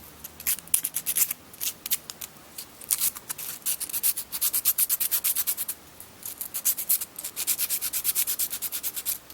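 A surfboard surface being roughed up by hand sanding, heard as rapid rhythmic scratchy back-and-forth strokes close by, in bursts with short pauses, with no talking.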